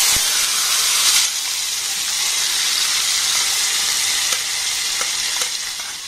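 Tomato and chili paste with five-spice frying in hot oil, a steady loud sizzle with bright hissing throughout and a few sharp spatters and clicks of stirring, no voices.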